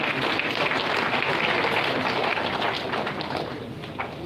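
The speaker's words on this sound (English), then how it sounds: "Ladies and gentlemen, let's appreciate them with the hearty clap." At an outdoor county app launch on open grounds, an audience gives a thick, steady wash of applause that tapers off gradually toward the end.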